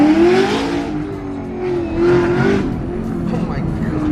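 A muscle car engine accelerates with a loud, close rising growl and a couple of swelling pulls from inside the car, while excited voices talk over it.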